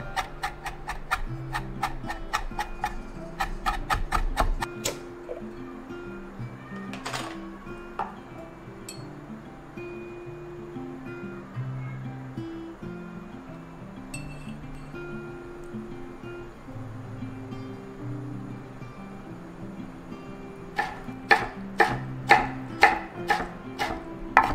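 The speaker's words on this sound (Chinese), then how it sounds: "老姜跟剥皮辣椒切成末状" Knife chopping peeled chili peppers and ginger finely on a board, a steady run of quick, close taps that thins through the middle and returns as sharper, louder strikes near the end, with no talking.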